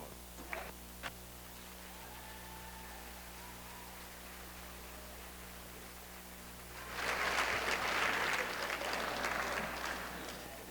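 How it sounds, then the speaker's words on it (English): Audience applause breaks out at a high school commencement ceremony after a quiet stretch, a broad dense wash of clapping from the crowd that swells and then gradually thins. "another round of applause"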